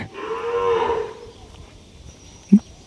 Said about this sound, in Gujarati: આ જો લીલડી ગાયું છે બધી.